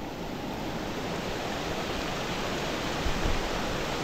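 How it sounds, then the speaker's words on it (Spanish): Floodwater from an overflowing river after heavy rain rushes in a dense, continuous roar, loud and unbroken throughout. "cómo va corriendo el agua de esta gran crecida"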